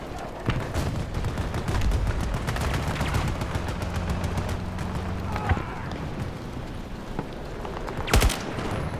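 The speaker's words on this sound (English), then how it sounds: "I don't know what's shooting at me" Battlefield 2042 gunfire: repeated rapid shots crackle through a dense battlefield din, with a louder burst near the end, while a player talks over it.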